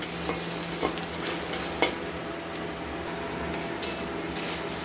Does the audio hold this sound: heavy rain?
no